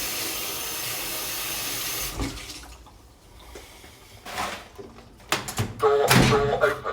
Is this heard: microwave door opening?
yes